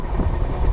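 A train runs on its rails through fog-covered hills, with a continuous low rumble and rolling clatter heard from inside a carriage.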